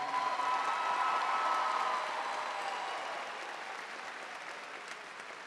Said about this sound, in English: How about a round of applause for all of that you have done?